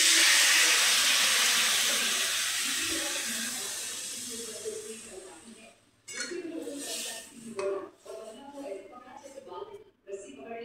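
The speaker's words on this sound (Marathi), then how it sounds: "शिजायला पाणी टाकून घेऊ आता." Water is poured into a pan of spiced brinjal curry, a loud steady gushing pour that fades over about six seconds, followed by bubbling, clattering kitchen noises while a voice talks.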